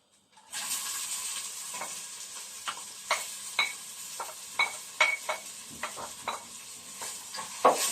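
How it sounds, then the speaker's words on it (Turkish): Steady sizzling of onions frying in butter, with repeated scraping and clinks of a utensil stirring the pan at an irregular pace. "Soğanımızı iyice kavuralım biraz."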